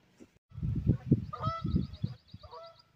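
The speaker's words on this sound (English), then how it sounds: "Those geese, I can't tell what they are." Geese honk in a garden on a coastal plain, giving several nasal calls in two short bursts, fairly near, over a low murmur of voices.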